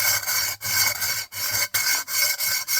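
Sanding the rim of a clay pot, a loud continuous close rasping scrape broken by a few brief pauses between strokes, no talking.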